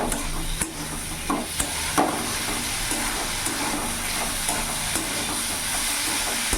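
Spices and potatoes sauté in a pan for a panch phoron rohu fish curry, giving a steady close sizzle and hiss broken by occasional scrapes and clicks of stirring.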